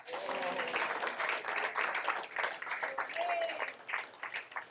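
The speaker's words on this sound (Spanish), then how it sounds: "Eso merece un aplauso." Congregation applause at a church service, a steady patter of clapping from many hands with a few voices calling out over it, holding at moderate level for several seconds before thinning out.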